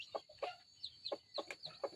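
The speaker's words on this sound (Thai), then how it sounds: "ลูกไก่น้อยไก่ต่อเลยพี่น้อง" Young decoy chicks, newly hatched and still wobbly, give a run of about seven soft, high clucks and peeps at an even pace, close by and faint, with no voices.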